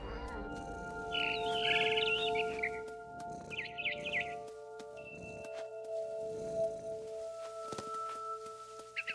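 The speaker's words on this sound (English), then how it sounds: "Then I heard chirping outside my window. It was a barn swallow going back to her nest." A barn swallow chirps in the video game What Remains of Edith Finch, with a few short, bright bursts of chirping that stand out over a steady, humming musical drone.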